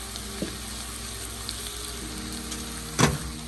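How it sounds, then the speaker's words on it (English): Beef for a high-protein meal fries in a pan with a steady close sizzle, a couple of soft clinks and a sharper knock near the end. "you allow your beef to cook until it is"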